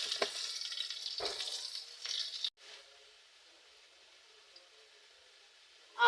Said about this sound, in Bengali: তা আলুটাকে আমি ভালো করে তেলের মধ্যে নুন দিয়ে ভালো করে ভেজে নেব।